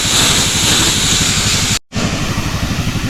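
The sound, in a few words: spraying plants with a sprayer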